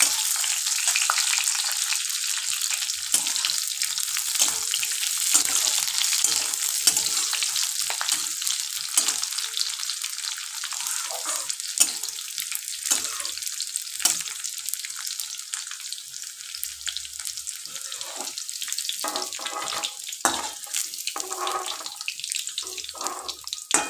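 Raisins and cashews fry in hot oil for a Bengali vegetarian chana dal, giving a continuous bright sizzle with a few louder crackles, and no voices.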